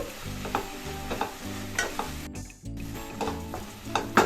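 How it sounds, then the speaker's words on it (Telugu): Washed gongura (sorrel) leaves frying and wilting in oil in a pan, a close sizzle with rhythmic scraping strokes of a spatula repeating every half second or so and a brief pause midway; no speech. "గోంగూర అనేది ఆయిల్లో ఈజీగానే మగ్గిపోతుందండి త్వరగానే మగ్గిపోతుంది మొత్తం బాగా మగ్గిపోయేదాకా కూడా ఫ్రై చేసుకోవాలి"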